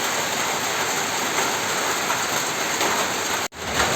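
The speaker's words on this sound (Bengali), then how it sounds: "এই যে বৃষ্টি শুরু হয়েছে" Rain falls at night in a Bangladeshi village as a steady, dense hiss of drops with no pauses, dipping for only a split second near the end.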